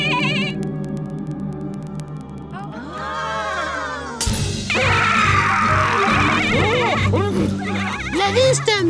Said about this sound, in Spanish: ¡Es un bebé cabra!